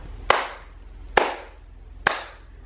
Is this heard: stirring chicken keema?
no